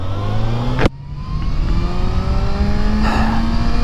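A Kawasaki ZX6R 600cc sport motorcycle engine revving with rising pitch, briefly cut off, then climbing again in a sustained high-revving whine close by.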